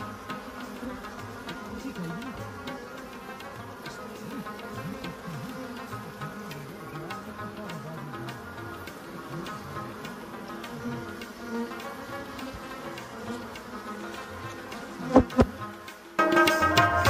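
Bees buzzing steadily throughout a wild honey harvest in Kotli, Azad Kashmir, a continuous insect drone with a brief louder burst of handling noise near the end.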